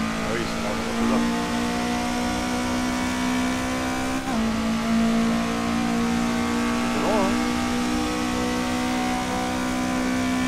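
A tuned Toyota AE86 engine revs steadily in the Assetto Corsa racing game, a continuous droning tone with shifts in pitch, heard close and loud throughout.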